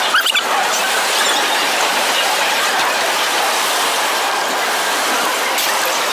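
Inside a moving passenger train, a steady, dense rushing rumble fills the carriage with little change throughout.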